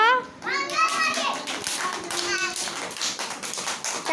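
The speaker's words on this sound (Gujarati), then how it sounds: "બે હાથે તાળી પાડો" Children in a classroom clap with both hands, giving quick repeated claps that run steadily under the loud speech of a child and a teacher.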